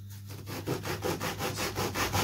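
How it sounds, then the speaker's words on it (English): A hand saw cuts through a wooden autogyro fuselage part in steady back-and-forth strokes, about a dozen rhythmic rasping passes, close and clear with no talk. "Right, sawing it out, just got to cut off the rough edges."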